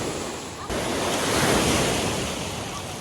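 Ocean waves crash and wash onto the shore on a morning beach, a continuous rushing roar that swells after the first moment, with wind buffeting the microphone.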